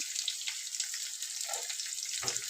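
Peanuts, chana dal, green chillies, curry leaves and onion fry in hot oil in a pan, giving a steady close hiss of sizzling with a couple of brief soft stirring knocks.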